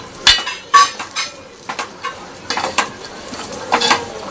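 Peas being stirred into roasted red-chili masala in a metal pan for Marathi vatanyachi aamti: a series of sharp spoon scrapes and clinks against the pan, spaced irregularly over a soft background, with no talking.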